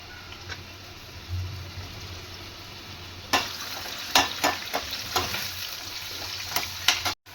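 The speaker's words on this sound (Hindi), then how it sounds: "अब सारी मशरूम को इसमें फ्राई करेंगे।" Mushrooms frying in a pan hiss quietly and evenly. After a few seconds a run of sharp spatula clicks and scrapes cuts in at an uneven pace.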